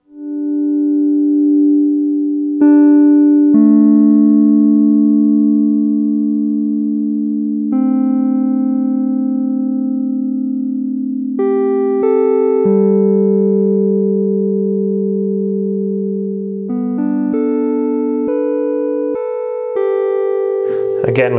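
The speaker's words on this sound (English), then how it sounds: "my absolute favorite is this one called Wet Piano" An FM synthesizer playing its Wet Piano patch with the reverb off, a clear electric-piano tone sounding a slow run of sustained notes and chords, each ringing out until the next is struck.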